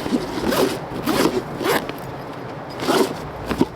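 A zipper on the carrying bag of a compact tabletop fire pit is pulled open in several quick, close rasping strokes with short pauses between them.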